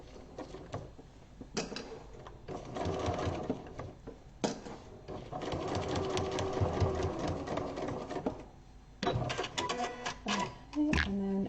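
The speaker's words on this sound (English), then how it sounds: "pop it under the sewing machine, and sew along that solid line" A sewing machine stitches fabric along a line in steady rapid bursts, stopping and starting several times, close and fairly quiet.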